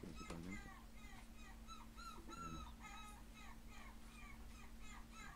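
A young female puppy whimpers in a string of faint, high, repeated whines over a low steady hum, with one brief sharper yelp near the start.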